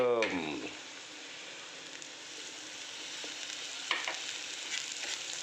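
Chopped garlic and green chili sizzle steadily in hot oil with onions that are browning for upma, a steady close hiss running the whole time, with a short bit of speech at the very start.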